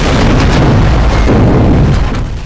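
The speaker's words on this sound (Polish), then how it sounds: "ten wybuch" An explosion in the first-person shooter Medal of Honor Warfighter sounds as a very loud, sustained, rumbling blast filling the whole stretch before tapering slightly at the end.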